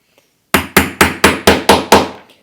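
Seven sharp hammer blows land in a steady, quick rhythm, close and loud, each ringing briefly before the next, with silence before and after.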